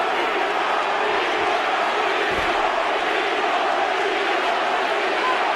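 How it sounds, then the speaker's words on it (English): Arena crowd at a Vitor Belfort vs Tito Ortiz fight shouting and chanting fighters' names, a dense steady roar throughout with a brief low thump partway. "I don't know if they're screaming Vitor or Tito."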